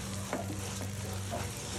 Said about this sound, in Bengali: ভালোভাবে মিক্স করে 5 মিনিট ফ্রাই করব